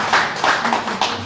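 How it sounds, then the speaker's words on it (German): Audience applause at a Polish literature reading night, a short burst of several separate hand claps fairly close, steady for about a second with no talk over it. "danke sehr, dass Sie geklatscht haben"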